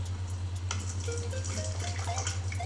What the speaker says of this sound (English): We're going to peel and wash our shrimp.